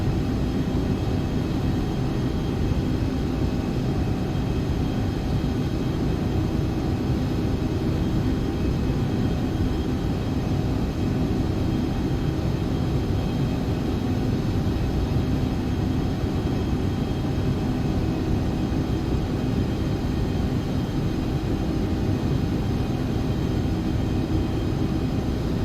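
An Embraer ERJ145 jet lands in the X-Plane 11 flight simulator, a steady, loud engine drone that stays unchanged and continuous throughout.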